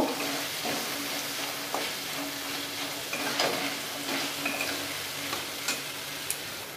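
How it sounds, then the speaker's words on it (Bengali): Spice paste for a vegetarian pumpkin curry, made without onion or garlic, sautéing in a pan: a steady soft sizzle with scattered scraping and stirring clicks throughout, no talking. "মশলাটা বেশ ভালোভাবে কষিয়ে নেব"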